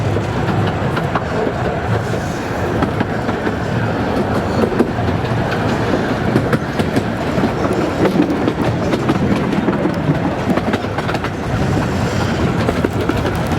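A Romney Hythe and Dymchurch Railway miniature train pulls out of a station onto single track toward Dungeness, giving a steady loud rumble with a rhythmic clickety-clack of wheels on rail joints, heard close throughout with no talk.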